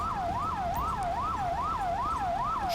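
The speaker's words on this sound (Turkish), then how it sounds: "Şunun sirenlerini kapatayım." Wailing emergency vehicle siren from a GTA 5 fire-department mod, sweeping up and down in a steady repeating cycle, loud and continuous, alone with no talk over it.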